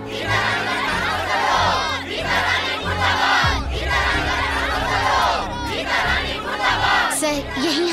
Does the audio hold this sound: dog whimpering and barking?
no